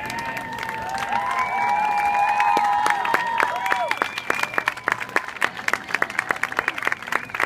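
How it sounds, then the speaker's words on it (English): A high-school homecoming crowd in the bleachers claps for the Brown County homecoming court, with whistles and cheers rising early, then the applause thinning into sharp, scattered individual claps. "how about one more round of applause for this fine group of young men and women representing Brown County in the Homecoming Court"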